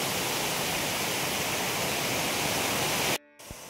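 Mawsawa waterfall in Meghalaya, with its bright white cascade giving a steady, dense roar of rushing water that fills the scene, then cuts off abruptly near the end, leaving a brief quieter moment.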